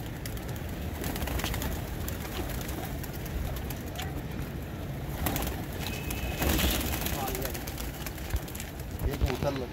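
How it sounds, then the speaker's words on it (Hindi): Pigeons coo and call near a pigeon club's catching net, with brief wing flutters among steady outdoor noise while someone speaks over much of it. "वो देख वो कबूतर, ये गोल्डन"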